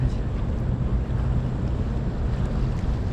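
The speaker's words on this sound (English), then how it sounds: "The waves are nice and calm." Steady broadband wash of water and waves along the harbor waterfront at Battery Park, New York, with wind rumbling over the microphone and a boat's low drone beneath, continuous and unbroken with no talk.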